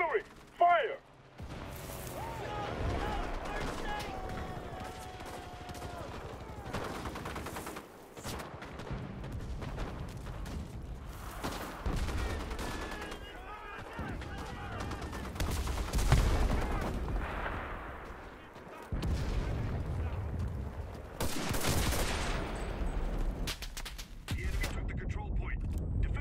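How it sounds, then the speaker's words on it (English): Artillery booms and rattling gunfire from the World War II shooter Enlisted, dense and continuous with heavy low impacts, loud battle noise layered under shouted voices. "calling in artillery! Copy! Artillery, fire!"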